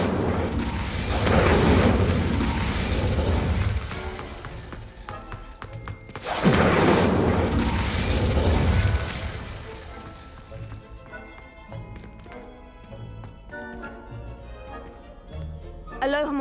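Incendio fire spell cast in the video game Hogwarts Legacy: two loud, booming whooshes of flame a few seconds apart, each a broad roaring burst that fades into ringing tonal game sounds, with a voice shouting the spell over it.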